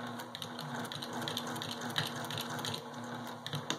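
A sewing machine back stitching on quilt binding, giving a steady, busy mechanical whirring and clatter throughout, fairly quiet and with no voices.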